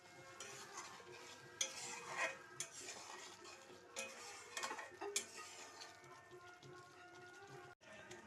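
Spices being stirred into fried onions in a metal pot, with close scraping and clinking of a spoon against the pan in irregular bursts over a faint sizzle, and a voice talking quietly at moments.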